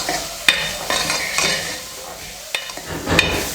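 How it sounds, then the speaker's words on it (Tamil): Boiled chickpea sundal is sautéed in oil in a pan. A soft sizzle runs throughout, broken by several sharp spoon scrapes and stirring clanks at irregular intervals. "ஒரு நிமிஷம் எண்ணெயில் நல்லா வதக்கிக்கலாம்."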